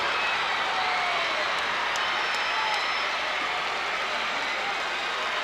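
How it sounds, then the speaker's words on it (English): Crowd erupting at a 1991 Class AA high school basketball state semi-final, Williamson vs. Wheeling Central, a loud sustained roar of cheering that fills the gym continuously, with a few faint whistles on top. "This crowd has erupted."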